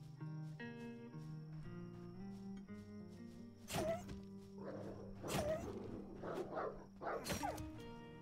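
Dogs barking in the survival game Dysmantle, with a few harsh, loud bursts spaced a couple of seconds apart over steady melodic game music.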